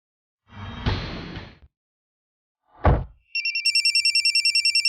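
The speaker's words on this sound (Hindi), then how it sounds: "हाँ जारिया, अच्छा हुआ तुमने फ़ोन कर लिया।" A telephone rings with a steady, repeating electronic trill that starts late and keeps going to the end. Before it come a soft whoosh and a thump, all heard without speech.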